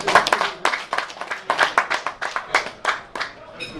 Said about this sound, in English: not even a round of applause up there, Steve.